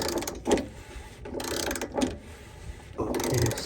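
Torque wrench tightening a plastic fuel filter cap on a 3.0 Duramax diesel, three bursts of close ratcheting clicks separated by brief pauses, fairly quiet with no talk.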